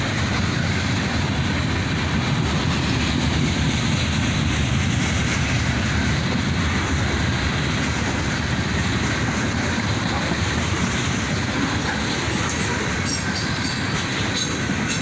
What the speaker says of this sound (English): And some Cryotrans refrigerator cars, all graffitied up.